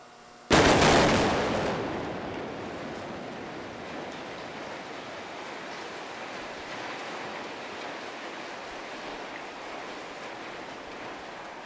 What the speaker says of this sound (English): You hear two distinct booms, and then those cranes come tumbling down.